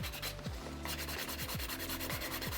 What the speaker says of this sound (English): So keep moving around while filing off your gel polish.